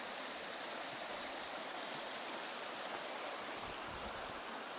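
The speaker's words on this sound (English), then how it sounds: "Here's Eagle Creek." Eagle Creek, a mountain stream in the White Mountain Wilderness of Lincoln National Forest, rushes in a steady, even wash of flowing water, close and unbroken, with no voices.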